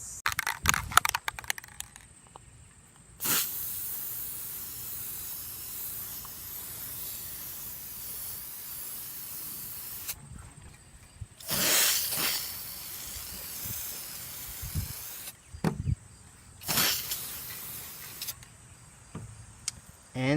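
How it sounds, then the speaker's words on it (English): Several bursts of pressurised spraying hiss from a spray paint can, each lasting a few seconds with short pauses between, close by and fairly loud. "I'm going to give the other side a spray down as well."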